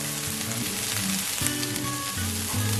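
Garlic and onions sizzle and fry in a hot pan while being stirred, a constant crackling hiss with periodic scraping stirs, close and clear with no talk.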